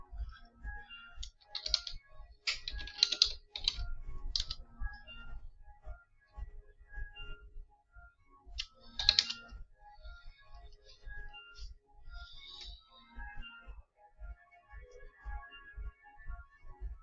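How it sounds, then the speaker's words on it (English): Steady typing on a computer keyboard, close and moderately quiet, with irregular bursts of rapid key clicks and short pauses throughout, no voices. "I just took a moment to finish typing that"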